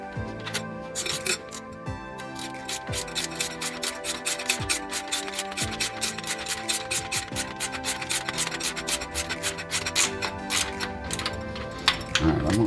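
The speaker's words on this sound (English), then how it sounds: "I'll go ahead and tighten up with the ratchet" A ratchet tightens fuel pump bolts, giving off rapid, close runs of dry clicking that pause briefly and resume in repeated bursts.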